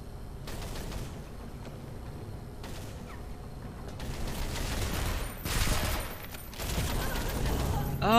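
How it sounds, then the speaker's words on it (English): Pistol shots in Deus Ex: Human Revolution: several sharp bursts of gunfire at moderate loudness, spaced across the stretch, over a busy background of game noise. "I love this pistol."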